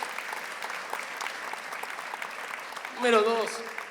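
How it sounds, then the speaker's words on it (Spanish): Congregation clapping during a Spanish-language sermon, a soft, steady patter of applause throughout, with a voice briefly rising over it near the end. "que le aplaudan a Dios quienes lo crean"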